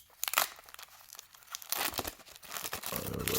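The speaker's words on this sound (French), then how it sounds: "Alors là, c'est les cartes. Oula, je ne sais pas si je vais pouvoir vous le déballer là." Plastic packaging being torn and unwrapped from trading cards, with loud crinkling and crackling bursts close up, scattered at first, then a denser stretch of rustling.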